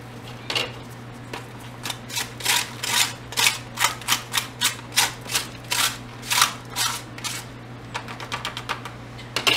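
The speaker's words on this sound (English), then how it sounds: "See if we can fold it and scrape." Copper chromite powder being scraped and folded on a surface, a dense run of close, crisp rasping strokes in an uneven rhythm that speeds into quicker, lighter scrapes toward the end, with no voices.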